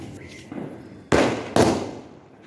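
Two sharp, loud firecracker bangs about half a second apart burst out close by during Diwali celebrations near a temple, each decaying quickly, with faint background voices and outdoor noise before and after.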